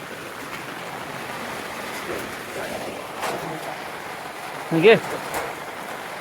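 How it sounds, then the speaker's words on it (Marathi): Rain falls on a Konkan village, making a steady soft hiss throughout while people speak briefly nearby. "पाऊस आलाय ना."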